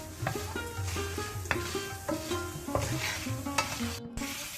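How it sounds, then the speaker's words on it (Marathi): Peppercorns and dried chilies dry-roasting in a pan, with a continuous soft sizzle and repeated scraping and rattling as a spatula stirs them, the tapping hits coming in an uneven rhythm; no voices. "मिरयां, आनी मिरसांग, ह्यो पुरो वस्तू तितकेशे भाजून काडया।"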